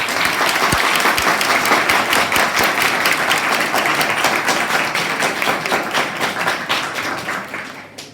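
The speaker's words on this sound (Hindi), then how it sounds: "आपके इन तालियों के आकाश का बहुत बहुत आभार" Loud, dense audience applause after a Hindi poetry recitation, sustained for several seconds before tapering off slightly at the end.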